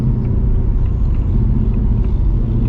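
A truck rumbles past on the road close by, a steady heavy low roar of engine and tyres holding loud and even the whole time with no talk over it.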